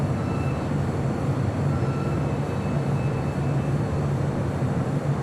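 An airliner taking off from a runway at Los Angeles International Airport, a steady, broad engine roar with a low hum that holds at even loudness throughout, with no talk.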